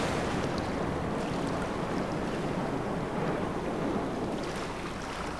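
Water in a temple dungeon of the video game Hob, a steady broadband rushing wash like flowing or surging water, continuous and fairly loud across the whole stretch with no talk.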